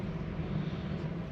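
An EasyJet airliner passes high overhead, a faint, steady broadband roar heard from a disused railway walk, with no voices.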